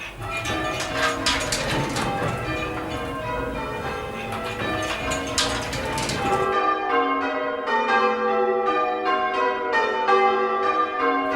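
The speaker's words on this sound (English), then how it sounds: "This time I'll be ringing plain Hunt from the number 5 bell" Church bells ring plain hunt, with the number 5 bell among them. Dense overlapping peals give way to a clearer, evenly spaced sequence of struck notes, loud and resonant with no talk.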